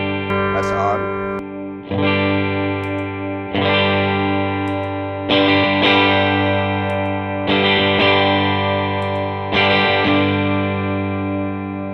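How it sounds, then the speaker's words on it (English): An electric guitar plays repeated strummed chords through an Electro-Harmonix Soul Food transparent overdrive pedal switched on and off, each chord ringing out loudly and sustaining before the next strum. "I'm just going to turn the Soul Food on and off, see if you can hear the difference."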